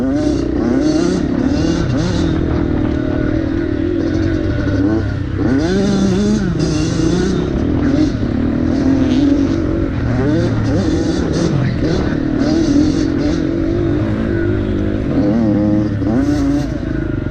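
Two-stroke dirt bikes race a wooded enduro course in Michigan, their engines revving up and down in rapid bursts close by, with clatter from the track and a voice speaking intermittently.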